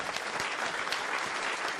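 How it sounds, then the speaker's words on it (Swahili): A crowd at a Gusii leaders' fundraiser for Shabana FC gives a guest a brief burst of applause, thick and continuous clapping heard close and alone. "tumpatieni makofi zaidi huyu jamaa"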